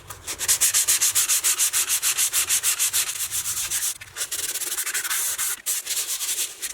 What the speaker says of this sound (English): I'm just taking some 80 grit sandpaper and just trying to get in the high spots off